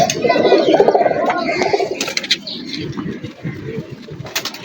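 Old traditional-breed pigeons coo close by in a deep, rolling murmur that is strongest at first, with scattered clicks and faint voices in the background.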